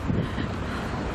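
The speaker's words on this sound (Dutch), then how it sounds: "Het waait heel hard." Strong wind roars and buffets the microphone on a street by a harbour in a brief, continuous rush of noise.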